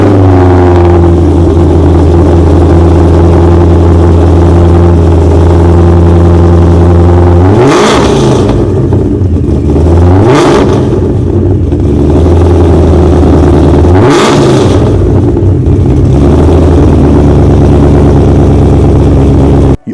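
A 2013 Shelby GT500 Super Snake wide body making over 1,000 horsepower idles loudly up close, then blips its throttle in three sharp revs that rise and fall back to a heavy, rumbling idle.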